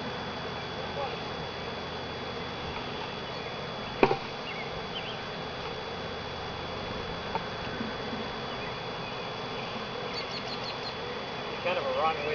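Honey bees buzz around a bait hive at a home apiary, a steady faint drone running throughout with a brief sharp knock partway through and faint bird chirps near the end.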